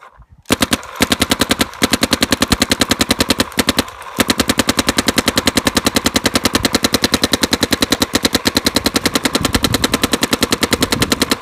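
A Planet Eclipse Geo 2 paintball marker fires a long, rapid, evenly spaced string of sharp pops at close range. Two brief pauses break the burst, and no one speaks.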